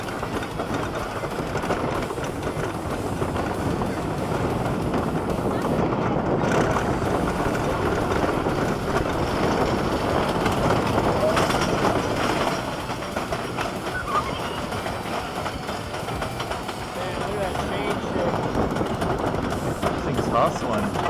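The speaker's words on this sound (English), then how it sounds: "Way in the back of the park is the other wooden coaster, PTC, Philadelphia Tobacco Coasters. It's called Comet. Let's have a ride." A ride on Comet, a wooden Philadelphia Toboggan Coasters roller coaster at Six Flags Great Escape, with a continuous loud rumble and rattle of cars on wooden track, wind noise, and voices of riders throughout.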